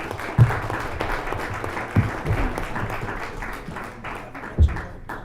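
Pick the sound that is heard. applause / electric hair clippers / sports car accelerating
applause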